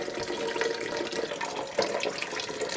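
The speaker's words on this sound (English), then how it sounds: "So we're just going to fill enough of water that it covers the eggs." Tap water runs steadily into a pot being filled to cover eggs for boiling, a soft splashing stream heard close and alone with no talk.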